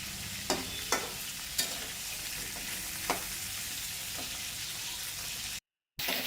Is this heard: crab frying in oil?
yes